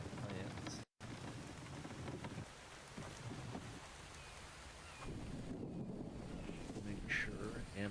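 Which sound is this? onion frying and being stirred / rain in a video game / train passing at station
rain in a video game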